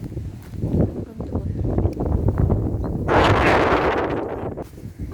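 Heavy wind buffets the microphone in low rumbling gusts among mandarin and apricot trees, swelling into a louder rushing burst near the end.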